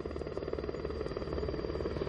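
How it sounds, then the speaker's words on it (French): A helicopter landing on a road just ahead, its dense, rumbling rotor and engine noise rising and falling steadily with a fast throbbing pulse. "Et qu'est-ce que c'est que cet hélicoptère? Il se pose sur la route, là, juste devant nous, regardez."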